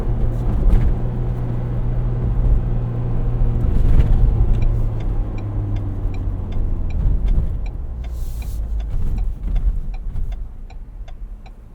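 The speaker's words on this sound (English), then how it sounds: "put the clutch in and the engine will automatically start back up" A 2023 Ford Bronco Heritage Edition with a 7-speed manual gearbox, its engine starting itself again when the clutch is pressed: a steady, low idle hum inside the cabin that swells and shifts partway through, with light ticking sounds later on.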